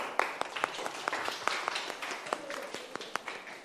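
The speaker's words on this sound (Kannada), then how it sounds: "ಚಪ್ಪಾಳೆ ಹಾಕಿ ಎಲ್ಲರೂ" Children clapping together in a classroom, a dense run of sharp, uneven hand claps spread across the whole moment at moderate distance, no one talking over it.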